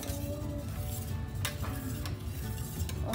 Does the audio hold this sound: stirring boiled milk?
yes